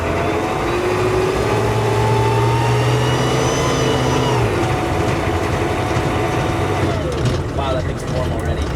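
A Humvee engine runs loud and close, with its droning tone climbing and shifting as the vehicle pulls away, and people talk over it.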